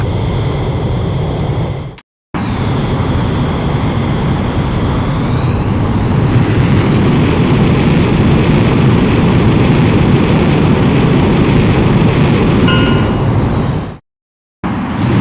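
A jet fighter taking off in the PSP game Ace Combat X: a loud sustained jet engine roar with a rising whine as it spools up, steady and close, broken by brief silent cuts at the start and end.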